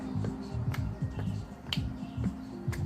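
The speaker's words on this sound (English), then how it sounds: "Let's clap side to side" Rhythmic hand claps from a chair exercise class, sharp single claps landing roughly twice per second over steady background music with a low, repeating tonal pattern.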